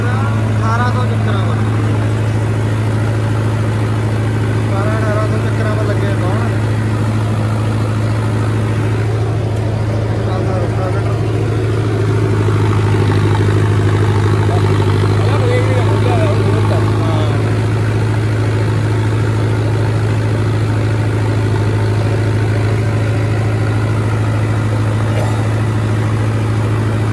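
A tractor engine runs steadily at a low, droning hum, loud and close for the whole stretch, with people talking over it.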